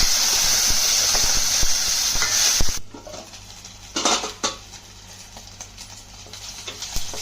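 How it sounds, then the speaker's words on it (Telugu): Dried prawns fry in hot oil in a pan with a loud, continuous hiss that cuts off after a few seconds, followed by a few sharp clinks of a utensil against the pan. "ముందుగా ఎండ్రాయిలు నూనెలో వేసేయాలి"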